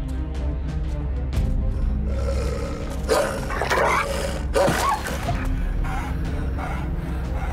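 In an animated film, a dog barks and growls in loud, rough bursts layered over a dense, continuous soundtrack bed.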